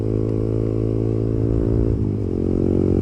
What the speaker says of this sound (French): elle fait un boucan avec le pot